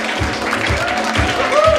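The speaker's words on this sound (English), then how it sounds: "I need everybody clap your hands, make some noise" An audience at an evening panel event claps and cheers, steady crowd noise over a rhythmic low thumping beat, with a voice heard above it.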